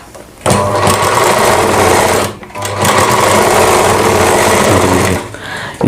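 A sewing machine stitches a seam along the bias-cut edge of a kanchli blouse, whirring loudly and close in two long steady bursts separated by a brief pause.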